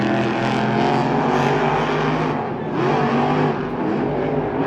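Monster trucks Megalodon and El Toro Loco roar through a Monster Jam race in a stadium at Anaheim, their engines loud and continuous with sustained revving and crowd din throughout.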